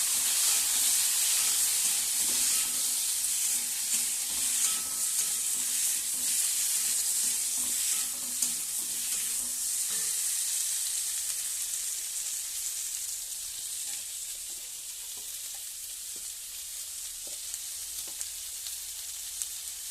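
Potatoes sizzle steadily in hot oil in a pan, a dense continuous frying hiss with light stirring scrapes, strongest early and easing slightly later, no voices.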